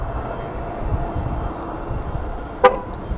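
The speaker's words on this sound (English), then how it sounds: "And you can see that the lights came on and it honked the horn." A single short car horn toot rings out once as the vehicle is locked with its key fob, brief and fairly loud, over a steady low rumble of outdoor background noise.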